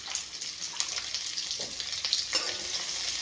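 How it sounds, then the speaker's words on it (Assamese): Chopped onions fry in a little oil in a pan, a steady close sizzle with occasional stirring scrapes and crackles throughout, no voices. "পিঁয়াজখিনি অলপমান ভাজি ল'ম।"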